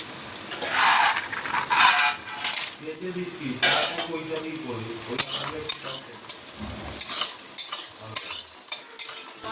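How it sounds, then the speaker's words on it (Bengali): Whole cumin and dried red chillies crackle and sizzle in hot oil in a wok, with steady frying hiss and repeated scraping and clinking of a metal spatula stirring close up. "এই যে গোটা জিরে আর শুকনো লঙ্কা ফোড়ন দিয়ে দিলাম"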